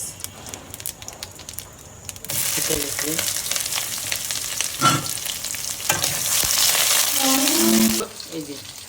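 Onion hissing and sizzling loudly in a hot pan, a steady broad fry that starts after a quieter couple of seconds, with occasional scrapes and clinks of stirring and faint kitchen noise underneath.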